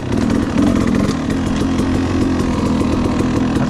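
A 2016 KTM 300 XC motorcycle engine runs under way while ridden, a loud, close, continuous buzzing drone holding a fairly steady pitch throughout, with no talking.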